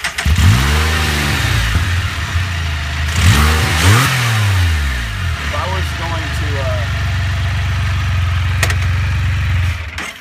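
A Can-Am Spyder F3 three-wheel motorcycle in neutral, its engine revved hard several times, each rev rising and falling, then settling into a loud, steady idle close by.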